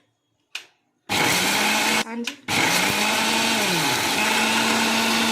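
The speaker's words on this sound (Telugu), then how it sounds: "ఇలా మిక్సీని అయితే ఆపుకుంటూ తిప్పుకోవాలి" A mixie grinder running as ingredients for sweet sunnundalu are ground, a loud close whine that starts after a short word, stops briefly, then resumes steadily with a falling pitch.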